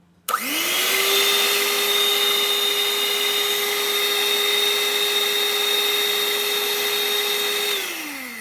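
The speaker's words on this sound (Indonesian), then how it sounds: "Itu adalah speed paling rendah dan perputarannya juga masih cukup pelan dan cocok digunakan ketika kita ingin memulai proses mixing secara perlahan" A Han River hand mixer spins up at its lowest speed, a steady high motor whine with a bright tonal hum that holds evenly for several seconds before winding down, close and loud with no talking.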